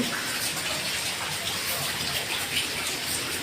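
Steady, broad roaring wash of Cyclone Michaung's wind and rough sea surf blending together, loud and continuous with no pauses or voices.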